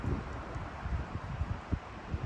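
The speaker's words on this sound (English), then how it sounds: "Very windy morning" Gusty wind buffets the microphone on a fall morning in the Gila Wilderness, with low, uneven rustling bursts and no voices, fairly quiet throughout.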